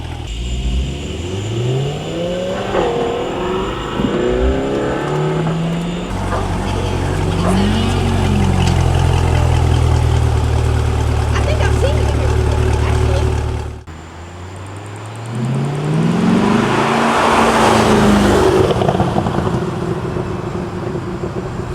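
A 2020 Chevrolet C8 Corvette engine settles into a loud idle, then sweeps through several revs rising and falling close by, with voices talking over parts of it.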